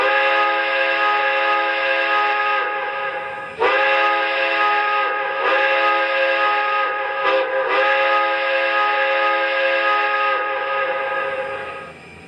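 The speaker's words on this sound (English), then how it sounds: "first up, let's check out the whistle" A model Pennsylvania 6-4-4-6 S1 steam locomotive whistle blows in long, loud chord-like blasts with brief breaks between them, bright and sustained, then trails off.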